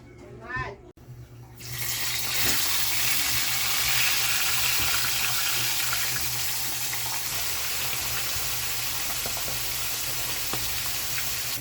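Steady broadband sizzling of vegetables sautéing in a pan, loud and continuous, starting abruptly after a brief quiet moment with a faint voice.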